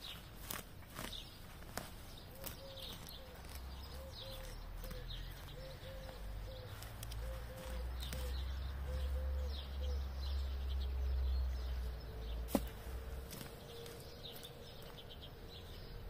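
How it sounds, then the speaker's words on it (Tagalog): Many birds, including cooing pigeons or doves, call around a garden in a local neighborhood, with repeated soft coos and chirps set against low rumbling background noise and footstep-like shuffles. "Daming ibon po dito sa lugar namin."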